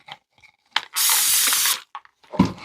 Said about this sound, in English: I do use my mold release spray on my silicone cups or my silicone spatulas after I clean them up